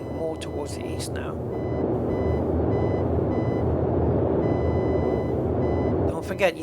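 A radio range station identifier in Microsoft Flight Simulator, flying a Boeing 247D, sounds as brief bursts of beeping at the start and end over a steady droning engine and static hum that fills the middle.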